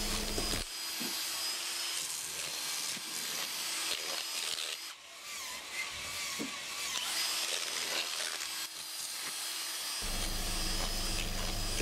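A kitchen mixer churns sand with sodium silicate in a loud, continuous motor drone with a gritty texture. It dips briefly midway and shifts tone near the end, with no voices.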